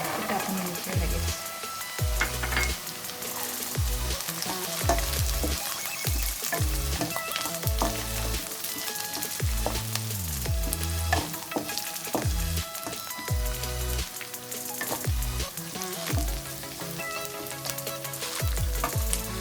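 Small bowl of corn kernels tipped into a hot pan of vegetables on medium gas, frying with a steady loud sizzle and repeated stirring scrapes, with music playing throughout and no talk.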